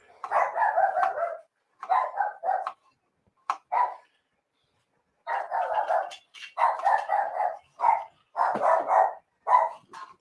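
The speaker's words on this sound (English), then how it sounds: "P.O.'d puppy dog." A dog barks and yips in repeated bursts, some short and sharp, others drawn out, with brief pauses between volleys; close and loud, no talking.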